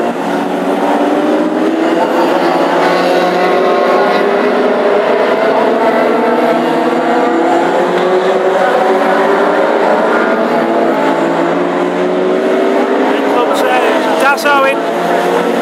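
Classic hot rod race cars streaming past on the oval at Hednesford, a loud continuous layered engine drone with rising and falling pitch as the field passes, under a commentator's voice.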